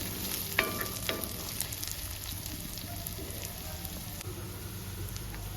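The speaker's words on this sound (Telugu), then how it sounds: "పచ్చి పచ్చి లేకుండా బాగా ఫ్రై చేసుకోవాలండి అల్లం వెల్లుల్లి చేసి కూడా" Ginger garlic paste fries for a chicken fry, producing a continuous soft sizzle with a couple of light utensil taps near the start.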